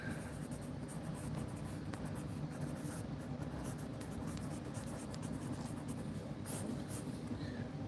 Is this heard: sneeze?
no